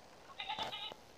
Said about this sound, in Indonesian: ini juga ada kambing-kambing yang beranak di sini ya